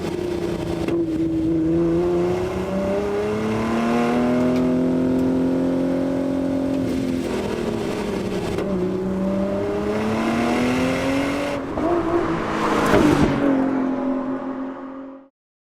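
A sports car engine revs hard while driving, with a raw, mechanical motorsport snarl that climbs and falls in pitch. It stays loud and close throughout, then cuts off abruptly at the end.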